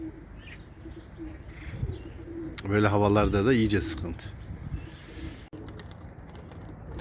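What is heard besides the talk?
tumbler pigeons cooing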